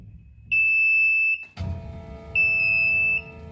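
An OMtech laser cutter's door alarm sounds while the lid is open, two long piercing high beeps separated by a clunk and low machine hum, close and loud.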